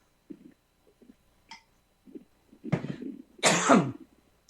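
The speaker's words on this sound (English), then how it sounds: "The coughing? I got mine, yeah." A few soft throat noises, then two loud, harsh coughs close by, the last one long and rasping, in an otherwise quiet room.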